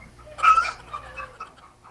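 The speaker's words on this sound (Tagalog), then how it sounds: "Pumasok ang manok." A chicken gives a brief burst of clucking, fairly close, followed by a few softer scattered clucks in an otherwise quiet space.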